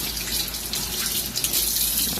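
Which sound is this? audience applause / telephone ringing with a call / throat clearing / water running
water running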